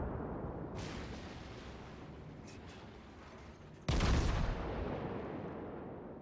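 Naval gunfire in the World of Warships game, with a Nürnberg cruiser dueling a Texas battleship: a deep rumbling boom, faint distant reports, then a louder heavy blast that rolls off into a lingering low rumble.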